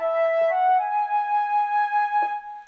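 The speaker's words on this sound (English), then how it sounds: "Flute goes like," A sampled flute plays a gentle melodic line of a few sustained, clear tones that step between pitches, soft and close, with no talk over it, in a calm, delicate piece of music.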